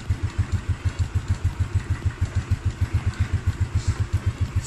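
A Yamaha Mio Sporty motorcycle engine idles up close with a steady, even low putter of regular firing pulses throughout, with no talk over it.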